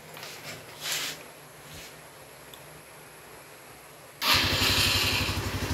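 A motorcycle engine catches and starts after wiring troubleshooting, then runs at a steady, fairly loud idle following a quieter stretch of faint background noise.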